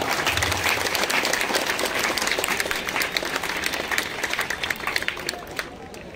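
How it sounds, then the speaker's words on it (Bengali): Sustained audience applause at a school foundation day ceremony opening a football academy, many hands clapping densely and evenly throughout, loud and near, tapering slightly toward the end. "সবার তরফ থেকে আরেকবার বিগ হ্যান্ডস, একটু হাততালি দাও।"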